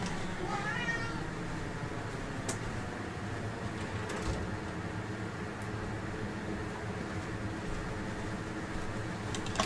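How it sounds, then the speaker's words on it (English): A pet cat meows restlessly indoors, a few drawn-out cries rising early and then fading into a steady background hum of room noise. "Let my cat out because he's going nuts."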